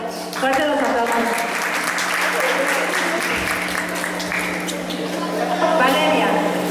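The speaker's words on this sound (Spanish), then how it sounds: "Fuerte los aplausos." Steady audience applause fills an indoor pageant opening, many hands clapping continuously at close range with a constant low hum beneath and an announcer's voice faintly over it.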